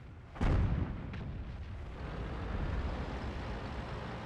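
Jagdtiger 88 tank destroyer firing its cannon in World of Tanks, one loud booming shot with a brief echo, followed by a continuous low engine rumble.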